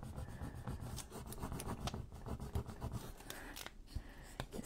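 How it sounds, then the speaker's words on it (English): A rub-on transfer is burnished hard onto a junk journal page, producing a close, quiet scratchy rubbing of quick repeated strokes in an uneven rhythm, with no talking. "I am having to rub pretty hard on this particular one."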